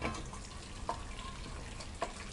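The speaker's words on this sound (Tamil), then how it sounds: "அப்படியே தண்ணியை வந்து வடிச்சுக்கலாம்." Water from boiled chickpeas pours through a strainer, a steady hissing trickle with a couple of brief splashy clicks, close and fairly soft.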